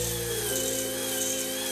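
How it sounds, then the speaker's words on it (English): A drill-driven hone spins inside a two-stroke engine cylinder, a steady high-pitched whine with a grinding rasp that runs continuously and close up, with no talking. "Here you can see the angle at which this is drilling, leaving that cross hatching"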